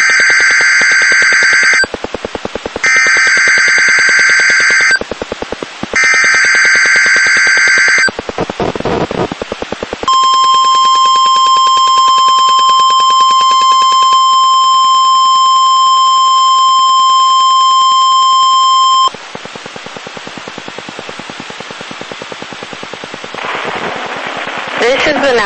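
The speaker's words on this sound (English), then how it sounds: "The preceding signal was a test of the NOAA Weather Radio's public warning system." NOAA Weather Radio public warning system test alert from the National Weather Service office in Honolulu, Hawaii. Three loud, harsh data-burst screeches are followed by a long, steady, piercing single-pitch tone, then quieter broadcast sound.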